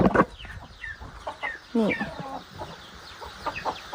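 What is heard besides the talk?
chickens clucking in the backyard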